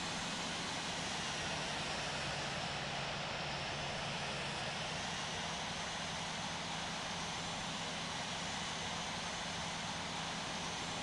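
Airbus A380 engines in the Infinite Flight game hold a dense, steady roar with a low hum beneath, loud and unbroken from start to finish.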